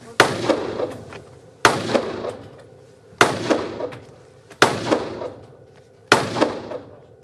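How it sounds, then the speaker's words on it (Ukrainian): Five sharp gunshots from a Glock 17 pistol and a CZ carbine at roughly even intervals, each a loud crack followed by a short echoing decay, with no talking. "ветерани стріляють з пістолета Глок 17 та чеського карабіну ЧЗ"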